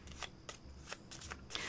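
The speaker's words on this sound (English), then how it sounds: "Well, that's a wad, so I will shuffle from these and take 3." A deck of tarot cards being shuffled by hand at close range, with a series of crisp riffling bursts repeating in a steady rhythm, alone with no voices.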